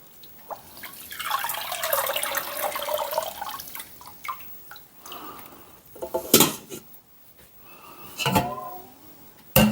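Birch sap is collected into a metal pot in a loose sequence of drips, splashes and metal clanks. Several sharp knocks stand out against quieter trickling.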